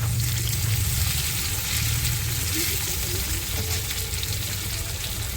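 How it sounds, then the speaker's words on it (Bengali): Onion frying with salt in a pan for a Bombay duck fish recipe: a loud, dense, continuous sizzle close up, with faint stirring underneath and no pauses. "একটু লবণ দিয়ে দেবো তাহলে পেঁয়াজটা তাড়াতাড়ি নরম হয়ে যাবে লাল লাল ভাজাও হয়ে যাবে"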